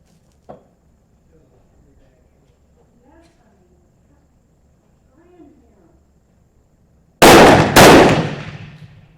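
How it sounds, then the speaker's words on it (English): Two loud, sharp gunshots close together near the end from a Remington No. 5 rolling block rifle chambered in 7mm Mauser, fired for speed, after a long quiet stretch with faint low murmurs. "Mainly I'm shooting for speed and see if I can get any kind of a group."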